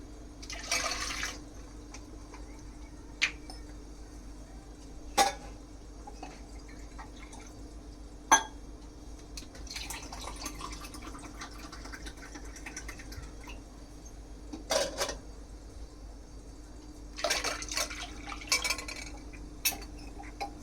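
Water poured into a bowl of pani puri masala, coming in a few short quiet splashing bursts with scattered clinks and drips between them, with no talking.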